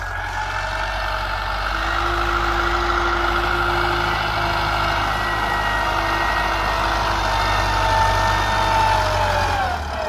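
A 1954 Someca 650 Fiat tractor engine idles steadily and close by with a deep, even diesel rumble and a faint whine above it, holding constant throughout without any talk.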